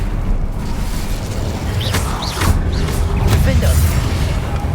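The Incendio fire spell is cast in the wizarding game Hogwarts Legacy, with low booming bursts and crackling flares over a dense rumble of combat. Voices can be heard among the effects.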